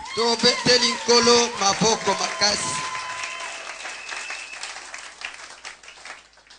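A church congregation applauds, a mix of clapping and voices that fades out over a few seconds into quieter reverberant room sound.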